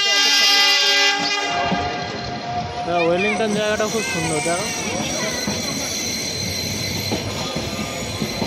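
The Nilgiri toy train runs from Ooty toward Coonoor, opening with a bright horn, then squealing wheels and rumbling carriages along the track while a person talks.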